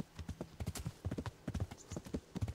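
Steady clip-clop of a horse's hooves in Kingdom Come: Deliverance, a quick rhythmic gait of dull thuds at moderate distance, fairly quiet, with no talk.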